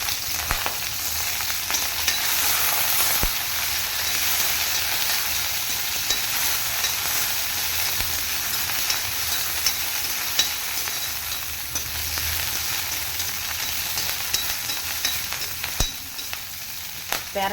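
Garlic, chilli and devil's backbone stalks sizzle steadily in hot oil, a dense continuous frying hiss close up with occasional stirring clicks from the spoon and no talk.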